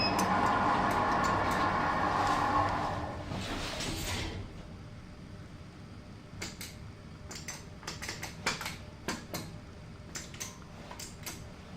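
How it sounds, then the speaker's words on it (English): Old lift doors at St Bartholomew's Hospital in London closing, a sliding rumble in the first few seconds followed by a series of sharp mechanical clicks and ticks inside the lift car. "Doors closing."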